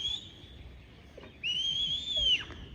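A shepherd's high whistle signals a sheepdog outdoors while herding sheep, two sustained clear tones with a slight pitch bend, the second longer and louder, echoing faintly across open ground.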